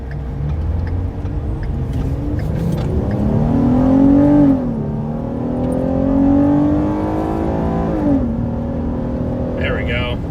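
Car traffic on an interstate heard from inside a moving vehicle during a storm-chasing drive, a steady road roar with engine whine rising and falling, loud and continuous, while people talk over it.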